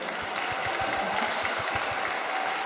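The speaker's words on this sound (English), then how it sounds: "we also just need to do another big just clap and cheer for Dave and for Rachel." A church congregation at a Sunday service breaks into loud, sustained applause, a dense steady patter of many hands clapping throughout.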